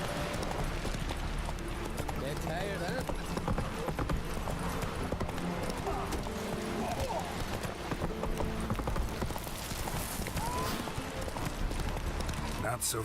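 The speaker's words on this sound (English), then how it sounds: "Watch out, a horse from above." Galloping horse hooves from The Witcher 3 video game, a steady rapid clip-clop running throughout, mixed with game music and ambient sound, with someone talking over it.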